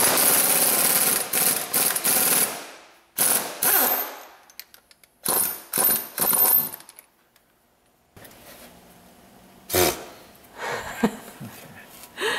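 Metal clicks, jangles and brief ratcheting bursts from a socket ratchet and 19 mm socket working the harmonic balancer bolts of a Toyota Camry, loud and close in separate spurts with quiet gaps, no talking.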